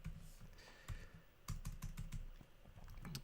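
Fingers type code on a computer keyboard, a quiet, close series of irregular key clicks in short bursts with no talk.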